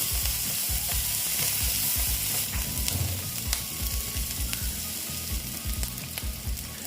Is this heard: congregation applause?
no